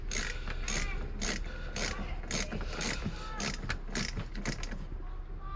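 A 10 mm regular socket on a ratchet turning the battery terminal nut of a 2003 Volvo XC90, a close run of quick clicking bursts in an uneven rhythm.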